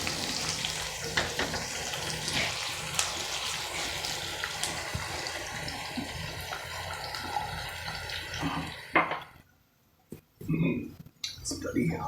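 Mutton and raw mango sauté in a pot, a continuous close sizzle with stirring clatter that drops away abruptly near the end, followed by a short burst of noise and a brief silence.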